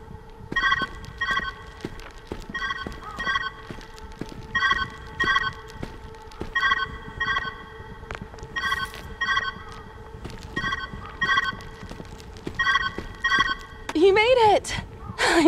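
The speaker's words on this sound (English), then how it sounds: "Where's that ringing coming from?" A telephone rings inside the puzzle video game Viewfinder, sounding as repeated short bursts of bright ringing at a steady rhythm, moderately loud, with light footsteps underneath and a whooshing effect near the end.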